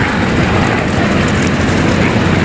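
A vintage aircraft flying past at the Duxford Flying Legends air show, its engine a loud, steady roar filling the whole clip.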